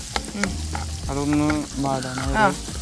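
Crushed aromatics and green chilli sauté in hot oil, a hissing sizzle running underneath a person talking who dominates the short moment.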